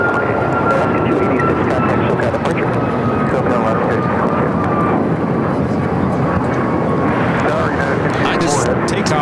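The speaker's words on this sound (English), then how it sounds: "Alaska Airlines 286 taking off to Newark on the MAX 9" An Alaska Airlines Boeing 737 MAX 9 bound for Newark takes off at LAX. The jet roar is broad, loud and steady throughout, with voices talking under it.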